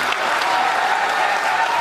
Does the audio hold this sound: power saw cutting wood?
no